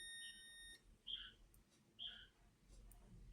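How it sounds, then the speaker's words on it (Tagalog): Faint, close chirping buzzes from an ANENG M118A multimeter on continuity test, starting with a sustained tone and followed by two short separate beeps over a quiet background. "May buzzer siya."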